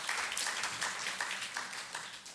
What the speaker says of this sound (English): So we give a round of applause to the School of Science and Engineering.